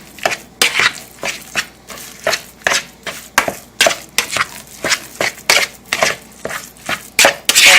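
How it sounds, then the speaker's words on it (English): Turkey burger meat being mixed by hand in a home kitchen, giving a steady run of close, wet squelching and slapping pulses, roughly two per second, with no talk over it. "So I'm just mixing this all together."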